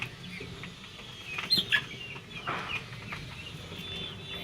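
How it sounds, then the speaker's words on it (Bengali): Chickens and young chicks cluck and cheep inside a small backyard coop on a poultry farm, a few short bright calls rising over a quiet low background, fairly close. "এখানে 50টা মুরগির বাচ্চা উঠাইছি"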